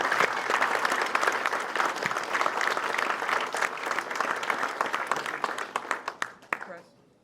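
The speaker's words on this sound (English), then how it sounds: "Let's give a round of applause for George A. Ellis IV." A crowd at a motorcycle club gathering gives a sustained round of applause, dense clapping that thins into a few scattered final claps before stopping.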